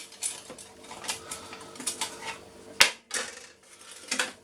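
Metal cake pans clatter and clink in a quiet room, a series of light knocks and scrapes with one sharper bang near the middle.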